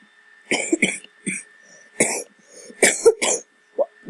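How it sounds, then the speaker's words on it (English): A run of harsh coughs, several bursts in quick succession with short pauses between them, close to the microphone. "I'm sorry for my coughing."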